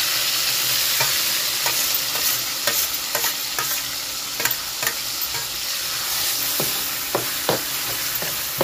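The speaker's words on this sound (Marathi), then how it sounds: "जिरे टाकते आणि आपण ही भाजी घोटून घेतली ना ती टाकून देते परतायला." Mashed dill and spinach greens are stirred into fried garlic and cumin in a hot pan, with a continuous close sizzle broken by repeated scraping stirs of a spoon, and no talking.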